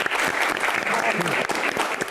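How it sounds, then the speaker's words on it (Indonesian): An audience claps for a guest star at a Jakarta anniversary talk show, dense sustained applause filling the room from start to end. "Tepuk tangan sekali lagi untuk bintang tamu kita juga Bang Yos."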